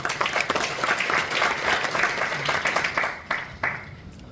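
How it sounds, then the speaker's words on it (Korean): An audience at a forum in a National Assembly members' building meeting room applauds to welcome Ajou University professor Han Ki-ho, a sustained, moderately loud patter of many hands that thins out near the end. "여러분 박수로 맞이해 주십시오."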